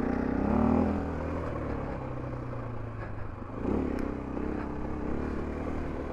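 A 2024 Husqvarna FE501S dual sport motorcycle rides fast over rocky ground, its engine droning steadily up close with a brief surge in revs and faint clatter from the terrain.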